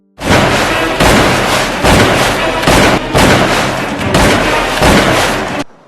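A shotgun fires at a shark on a lake, loud booming blasts repeating roughly every second over a dense, sustained roar, close and overwhelming, with no speech.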